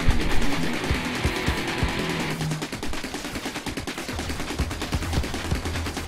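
The super gun fires nonstop in the retro shoot-'em-up game Steredenn, a dense, loud, rapid machine-gun-like rattle layered with bursts and impacts that continues unbroken from start to finish.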